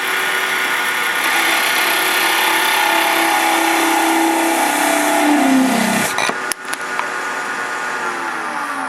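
A bedan parting tool cuts into spinning wood on a lathe, a loud continuous whirring hiss whose pitch slowly drops as the cut deepens, then breaks off abruptly near the end while the lathe keeps humming.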